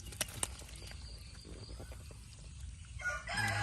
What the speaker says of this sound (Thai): เราก็เอาลูกไก่หย่อนลงไป